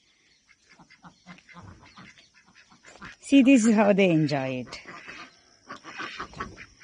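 Ducks eating sunken water lily flowers, soft wet dabbling and pecking sounds close by, with a loud drawn-out quack breaking in midway while someone talks over them.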